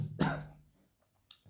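A single harsh throat clearing bursts out close to the microphone, followed by a short quiet and a faint second catch at the end.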